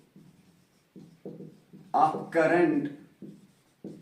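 Chalk or marker writing on a board during a physics lesson on electric current: short scratchy strokes come in brief bursts while a man keeps lecturing over them.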